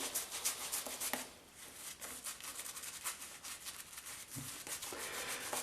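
A shaving brush works Boots shaving cream into a lather, giving soft, close, wet swishing and rubbing strokes in a quick irregular rhythm, quiet and with no voices.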